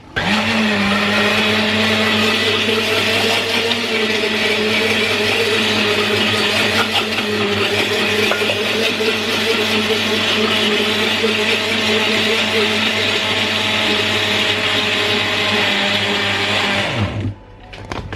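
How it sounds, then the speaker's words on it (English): A blender mixing carrot cake batter runs loudly and steadily with a constant whirring drone for about seventeen seconds, then winds down and stops. "I'm gonna slowly add it while the blender is going."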